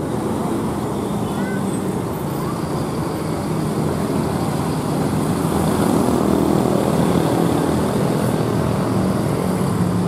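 A Sumber Jaya Trans bus passes on a road near Bogor's Bubulak terminal, a loud continuous engine drone and tire roar amid busy traffic, with no speech.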